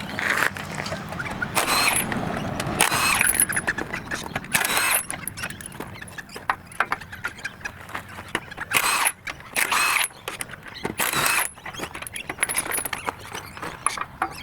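Truck wheels being removed to rotate ATW alloy rims: intermittent metallic clanks, squeaks and rattling of nuts and tools in irregular bursts with quiet gaps, fairly close but not loud.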